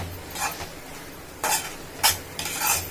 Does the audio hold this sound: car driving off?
no